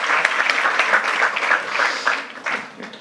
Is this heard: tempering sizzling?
no